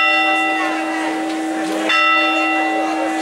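A church bell rings loudly and steadily at a Greek village bean-soup festival, its bright sustained tones layered and ringing on throughout, with a sharp new strike near the middle and no voices heard.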